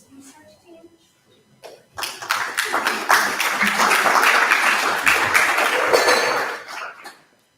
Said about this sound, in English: can we just round of applause to Dr. Pistorius' research team?